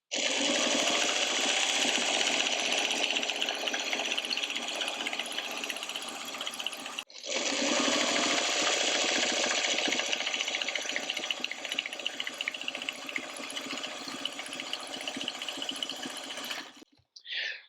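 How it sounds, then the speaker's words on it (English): A sewing machine stitches fabric for a bowl cozy in two long, loud, continuous bursts with a brief pause between, its rapid mechanical chatter steady and close. "when you're sewing, the feed dogs on the machine are doing all the work"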